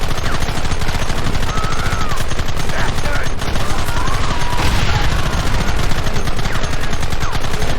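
Dense, continuous gunfire from many weapons in Red Dead Redemption, rapid overlapping shots crackling loudly and close for several seconds, with occasional shouting voices buried in the barrage.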